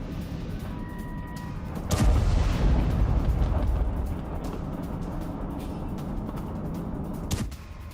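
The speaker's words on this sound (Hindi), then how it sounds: "क्रूज और बैलिस्टिक मिसाइलों से अटैक किया गया है" Explosive booms from cruise and ballistic missile strikes on Kyiv, a heavy blast rising suddenly and rumbling for a couple of seconds amid steady background noise, followed later by a second sharp impact.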